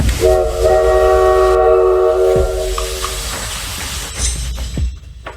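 At a station, a loud, sustained train horn blasts over the rumble and hiss of a departing train, then fades into clanking and hissing of rail cars nearby.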